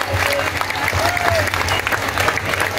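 Audience at a live show in Mahilpur applauding, steady dense clapping and crowd noise filling the whole stretch, with a low rhythmic music bed underneath.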